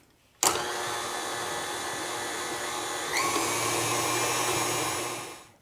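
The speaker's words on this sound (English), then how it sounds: "we'll just beat that together until nice and creamy" Electric mixer beating granulated sweetener for a keto ricotta cake, switching on abruptly and whirring steadily and loudly, its pitch shifting slightly partway through as it churns.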